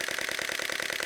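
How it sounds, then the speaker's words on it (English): Rapid burst from a Nikon D500 DSLR shutter firing at 10 frames per second, an even, fast machine-gun-like clatter of evenly spaced clicks, close and alone, stopping abruptly. "the Nikon D500 can shoot at 10 frames per second,"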